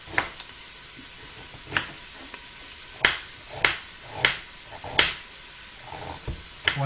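Round slices of ginger fry with onions in a pan. A soft, steady sizzle runs underneath while a utensil stirs with sharp knocks and scrapes every second or so. No one speaks.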